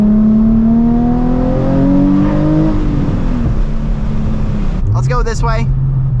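A 2006 Nissan 350Z engine revs with rising, falling tones, then settles into a blip and lower steady note as it downshifts; the sound is loud and close throughout, with a person speaking briefly over it.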